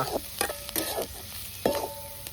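Dried shrimp (sukat) and onion frying with masala in a pan, with a few sharp spoon scrapes and stirring knocks breaking up a soft, steady sizzle.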